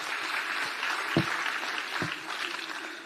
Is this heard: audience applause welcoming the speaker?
yes